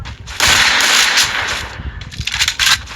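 Bursts of rapid gunfire from the Free Fire mobile battle-royale video game, loud and close, firing in sustained volleys with short breaks and a final quick burst.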